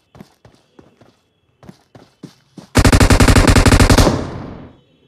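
In the mobile game Boom Baam Rush, a few sparse single shots give way to a sustained rapid burst of automatic gunfire that fades out near the end; no talking.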